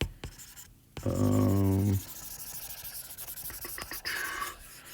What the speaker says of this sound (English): Let me erase some of these.